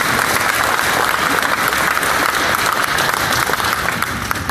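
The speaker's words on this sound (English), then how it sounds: "So let's give them a round of applause." A crowd claps loudly and continuously for candidates at a 2017 Vineyard candidate debate, an even roar of applause with no pauses.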